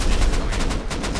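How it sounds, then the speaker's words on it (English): Rapid gunfire in the survival game Rust, a quick string of evenly spaced shots fired in a tight burst, close and loud with no talking. "They're shooting from the roof, bro."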